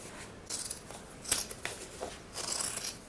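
Scissors snipping through a denim jean jacket around the collar seam, a few quiet, separate crunchy cuts with brief pauses between them, close and soft.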